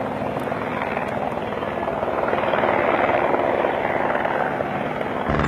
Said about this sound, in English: That sound is that Homeland Security helicopter